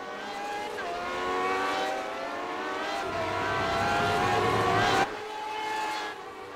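A train of classic Lotus Grand Prix cars roars past at Silverstone in the iRacing sim, loud engine drones layered together with shifting pitch as they stream by close.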